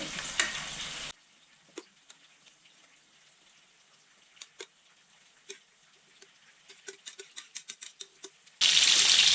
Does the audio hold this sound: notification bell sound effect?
no